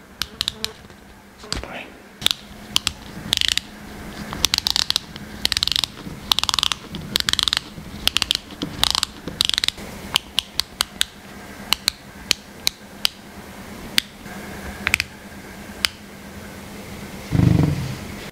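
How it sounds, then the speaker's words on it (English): A Q&Q E02A watch's resin bezel turns against its resin case, giving a long series of crisp, close ratcheting clicks in quick runs and single snaps, with brief pauses and a soft thump near the end. "Q&Q E02A's bezel has a sweet sound and has 60 clicks on one full rotation"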